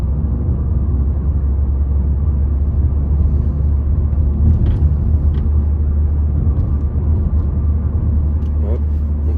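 A Mercedes A-Class rolls over a short stretch of cobblestones, giving a steady close interior rumble and road drone with faint rattles.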